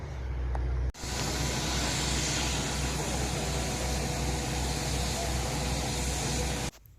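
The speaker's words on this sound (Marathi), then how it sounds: "बोरवेलच्या गाडीचा आवाज येतोय" A borewell drilling truck engine running, a loud steady roar with a low rumble, nearby and continuous for several seconds between abrupt cuts.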